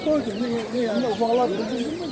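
Duckling chicks at the Kırıkkale poultry market giving constant high, wavering peeps up close, with someone talking over them.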